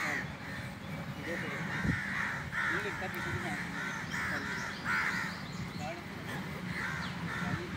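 Crows cawing repeatedly from mid-distance outdoors during a workout among friends, the calls recurring over a steady background of voices and ambient noise.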